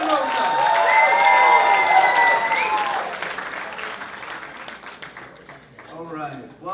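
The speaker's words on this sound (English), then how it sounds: "Can I get another round of applause for you and me, Loka?" Audience applause mixed with cheering at a cultural show, loud and sustained at first, then thinning out while a voice speaks over the fading clapping.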